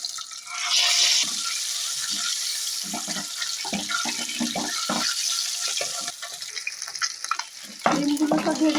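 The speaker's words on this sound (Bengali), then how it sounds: "ডিমগুলোটা ভেজে নিচ্ছি।" Duck eggs fry in mustard oil seasoned with salt and turmeric, giving a continuous bright crackling sizzle that stays loud throughout, with faint murmuring in the background.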